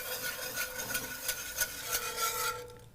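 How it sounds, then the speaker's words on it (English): A whisk stirs milk into pan drippings and seasoned flour to make gravy for country fried steak, giving a steady run of soft scraping, rubbing strokes against the pan with no talk over it. "whisk in some milk"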